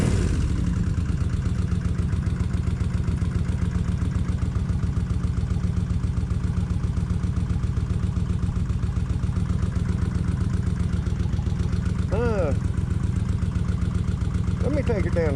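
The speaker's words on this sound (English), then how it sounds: "both cylinders is firing good now" A Kawasaki Vulcan 1600 motorcycle idles steadily with both cylinders firing, a close, even low-pitched throb that keeps a regular pulsing rhythm throughout, with faint voice-like sounds near the end.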